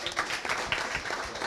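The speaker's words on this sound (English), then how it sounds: "give him a round of applause." Scattered hand clapping from a small crowd gathered in a primary school courtyard, a brisk patter of claps at moderate loudness, continuous but thin for a second and a half.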